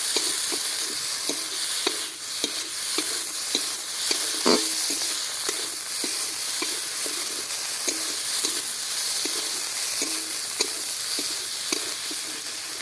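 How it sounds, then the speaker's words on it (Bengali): Okra, fried beforehand, is stir-fried in a pan with spice paste: a constant loud sizzle, punctuated by a steady rhythm of spatula scrapes and taps against the pan throughout. "এবার ভেজে রাখা ঢ্যাঁড়স দিয়ে দিচ্ছি। ঢ্যাঁড়স দিয়ে দিয়েছি, এবার ভালো করে কষিয়ে নেব।"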